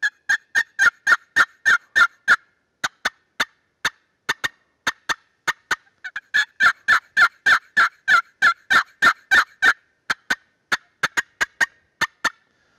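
Wooden turkey box call imitating excited hen yelps mixed with fast cutting, loud sharp repeated notes in quick bursts with short pauses between runs, played alone.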